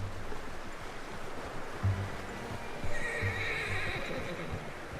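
A horse whinnies in the open-world western game Red Dead Redemption 2, a faint neigh under a steady wash of ambient noise with low hoof thuds, no voices.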